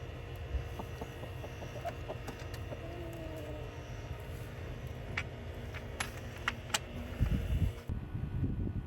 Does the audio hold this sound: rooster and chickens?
yes